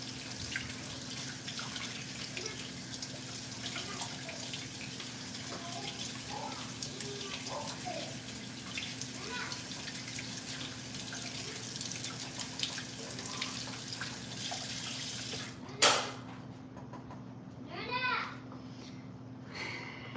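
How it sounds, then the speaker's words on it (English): Water runs from a tap while hands are washed, a continuous close rush lasting most of the time, then cutting off abruptly with a clunk and a few quieter knocks; a voice is faintly present. "I'm gonna wash my hands."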